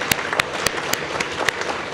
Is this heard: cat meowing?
no